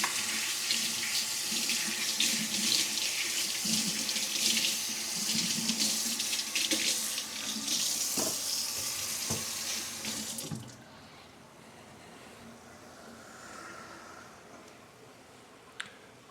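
A kitchen sink tap runs steadily while an item is washed under the stream, the water splashing and shifting for about ten seconds before shutting off, leaving quiet room tone and a single small knock.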